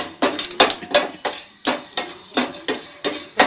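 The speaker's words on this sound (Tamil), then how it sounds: "அதில் எடுத்து வச்சுருக்க பெருங்காயத்தை போட்டு நல்லா ஃப்ரை பண்ணிடலாம்" Asafoetida frying in a little oil in a pan, with steady rhythmic scraping and clinking of a spatula against the metal roughly every third of a second, loud and close, no voices.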